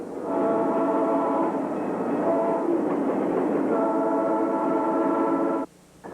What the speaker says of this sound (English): The people in this cab are professionals, but they can't stop this train quickly.